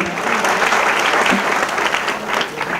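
Audience applause at a student orientation and awareness event, a steady dense clatter of many hands clapping close by throughout, with no speech over it.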